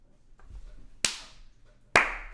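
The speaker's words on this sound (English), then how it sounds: "You ready for my clap?" Two sharp, close hand claps about a second apart, each ringing briefly in a quiet room.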